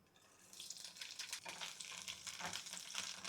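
Green chillies dropped into hot oil in a pan, a soft crackling sizzle that builds after the first half-second and keeps spitting and popping steadily at close range, with no voices.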